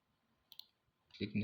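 A computer mouse gives two quick, quiet clicks in close succession, and then a voice begins speaking.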